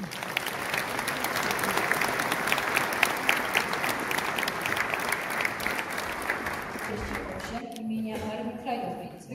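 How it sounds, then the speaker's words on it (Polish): Audience applause at a New Year's civic gathering in Częstochowa fills a hall with steady, dense clapping for about eight seconds before tapering off, followed by a few faint voices. "I wielkie brawa."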